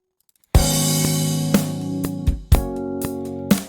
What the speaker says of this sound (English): the Rhodes on the second chord of the phrase